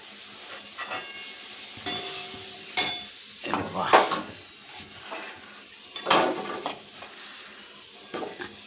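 Vegetables frying in a pan with a soft sizzle, punctuated by several clanks and scrapes of a utensil against the pan, close by and irregular, with no talk over it.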